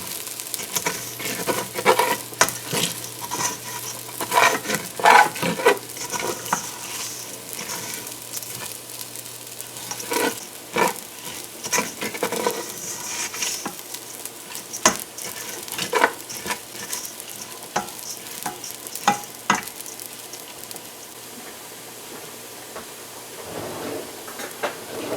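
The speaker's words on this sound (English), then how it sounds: "So we've added a cinnamon stick to the rice here to parch it." Raw rice with a cinnamon stick parching in a pot for sweet rice pudding, a soft dry sizzle broken by scattered scraping and stirring clicks throughout, moderately quiet and close.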